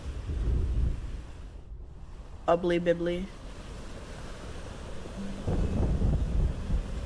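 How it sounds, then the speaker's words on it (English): A stormy thunder-and-wind sound effect plays in the background of a homebrew tabletop role-playing campaign, a low rolling rumble under people talking. "Why does it sound like Storm?"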